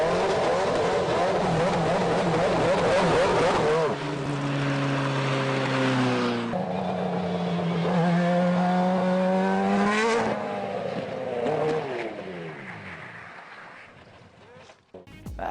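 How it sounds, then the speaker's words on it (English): A junior Formula Renault single-seater race car drives on a track, its engine howling and revving with rising pitch sweeps and abrupt drops at each gear change before the note fades toward the end. "here's Russian Prime Minister Vladimir Putin driving around in a junior Formula Renault car."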